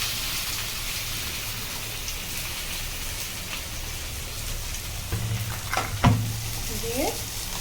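Mixed ingredients frying in hot oil in a kadai give a steady crackling sizzle like light rain, with a few clinks and a stirring scrape near the end.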